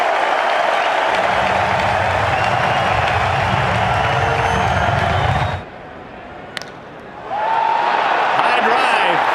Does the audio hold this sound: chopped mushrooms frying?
no